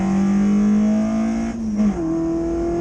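A small Citroen Ami electric car climbs a gentle hill with a steady whining drive tone that holds level, dips briefly, then settles at a slightly higher pitch, close and continuous throughout.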